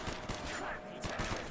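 Rapid gunfire from the Call of Duty Black Ops zombies video game, loud repeated bursts of shots over a busy game soundtrack, with a voice talking intermittently.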